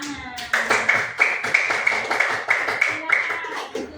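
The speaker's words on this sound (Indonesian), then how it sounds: "silakan berikan aplaus kalau berhasil. Tepuk tangan." A class of participants clapping in a teacher training session on computational thinking and coding, a few sharp, fairly regular hand claps, close and distinct, with a steady tone running underneath.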